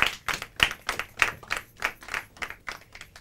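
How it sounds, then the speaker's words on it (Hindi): Audience clapping for a correct answer at a quiz show, a small group beating out an even, fairly quick rhythm of pulses that stays moderate in level throughout. "तालियां हो जाए इनके लिए।"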